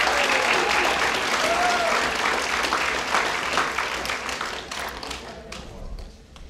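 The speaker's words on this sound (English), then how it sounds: "Let's give these ladies another round of applause." Audience applause at a high school awards ceremony: loud, dense clapping from a large crowd that holds steady, then thins and fades toward the end.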